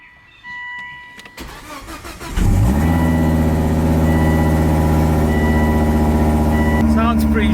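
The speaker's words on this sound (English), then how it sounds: "Crank the ignition a couple of times." A Volvo T5 engine on an ex-police car cranks with a starter whir, then catches and settles into a steady, loud idle that holds to the end, with a brief change at the close.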